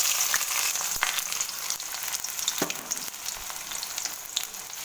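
Finely chopped onion fries in hot oil in a kadai for chicken maharani, an even, close hiss of sizzling with occasional soft spatula knocks and no voices.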